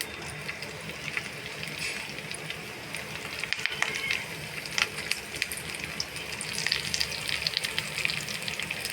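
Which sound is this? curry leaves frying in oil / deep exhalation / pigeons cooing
curry leaves frying in oil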